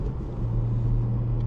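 Porsche 718 GTS 4.0 heard from inside while driving, a steady low engine and road rumble holding constant throughout with no speech.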